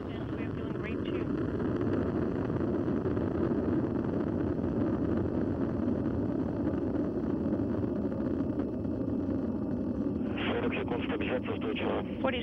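A Soyuz rocket's four boosters and core engine roar in a continuous, dense broadband rumble during launch, loud and unbroken, with a voice speaking over it.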